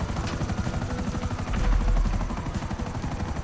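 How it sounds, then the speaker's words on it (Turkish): A helicopter flying in the video game GTA 5 gives off a steady, loud, pulsing rotor thump with a constant engine roar. "Gerçekten helikopter sürmek çok zor."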